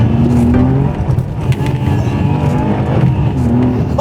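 A Ferrari engine hums steadily while driving, with a few brief rising revs, close and fairly loud, with no talking.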